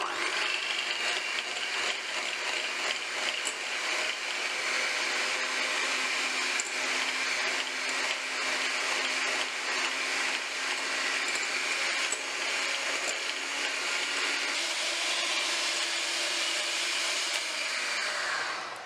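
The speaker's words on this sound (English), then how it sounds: "So I'm going to use my mixer." Electric hand mixer creaming a cup of softened margarine in a bowl for funfetti cake, a steady close whirring drone that runs without a break, with a slight drop in pitch near the end.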